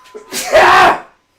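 A single loud sneeze comes close, with a short breathy build-up and then a forceful, drawn-out burst.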